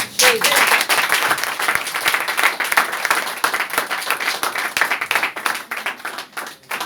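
A church congregation applauding and cheering in praise of the Lord, dense sustained clapping from a large crowd, with a few shouts mixed in.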